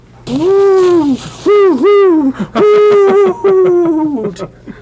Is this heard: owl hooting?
yes